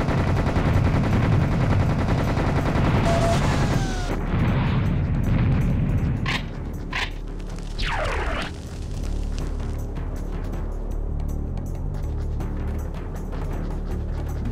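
Heavy gunfire and explosions in the Serious Sam HD video game as rockets are shot down, a dense loud barrage for the first few seconds, then sharper separate blasts and whooshes over a lingering rumble.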